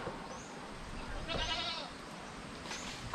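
Goat bleating faintly once or twice while eating epil-epil leaves outdoors, a brief soft call over steady background noise.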